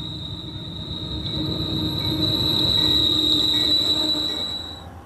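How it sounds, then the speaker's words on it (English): A diesel locomotive hauling a long heavy freight train rolls past, a steady low rumble swelling and fading with a sustained high wheel squeal ringing over it, fairly close and without talk. "The great diesel locomotives are capable of hauling massive amounts of heavy cargo in trains of 100 cars and more."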